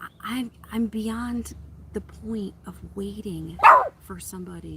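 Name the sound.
dog barking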